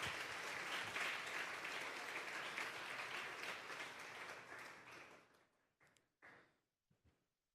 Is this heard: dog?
no